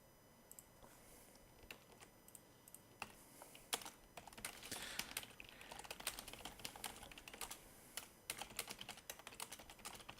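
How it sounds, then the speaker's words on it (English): Fingers typing on a computer keyboard, a quiet, irregular stream of light key clicks with brief pauses and a faster burst near the end. "just typing a tweet there"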